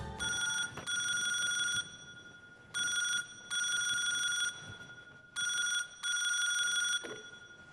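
A telephone rings in repeated electronic bursts, each a pair of trilling rings separated by short pauses, clear and fairly close in an indoor setting.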